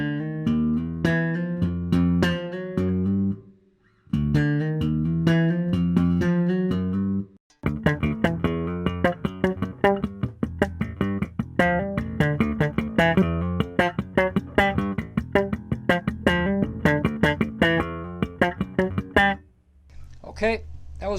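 A melodic slap bass line with the F natural struck twice, punchy plucked and popped notes in a busy rhythmic run, loud and close, with brief pauses between phrases.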